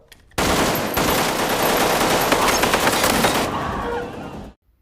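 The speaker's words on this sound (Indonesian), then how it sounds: "langsung pintu ditembak" Sustained rapid gunfire blasts at a hotel door in a film scene set in Mumbai, a dense loud burst of automatic shots lasting about three seconds before cutting off abruptly, with a short tail of debris and echo.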